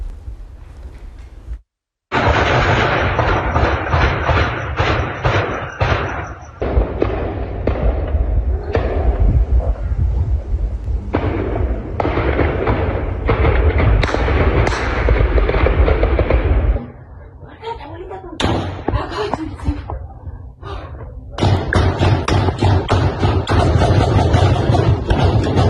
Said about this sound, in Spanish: los vecinos registraron en video los balazos